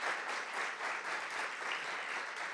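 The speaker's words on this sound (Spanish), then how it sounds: "Recibamos con un fuerte aplauso al doctor Lorenzo Córdoba." Steady, even applause from a seated audience welcoming Dr. Lorenzo Córdoba to an electoral-challenges panel, heard from a distance and sustained without a break or voices.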